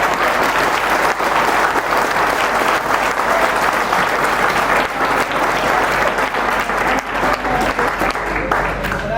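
Loud, sustained applause from an audience at an Engineers Day celebration at a government polytechnic in Patna, dense steady clapping filling the whole stretch without pause.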